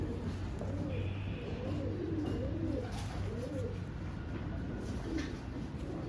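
Pigeons, including one with white flight feathers and a black tail, coo in repeated soft rolling phrases close by, with a low steady hum underneath and no talking.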